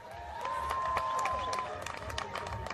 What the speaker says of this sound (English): Do you think the fighters deserve a big round of applause?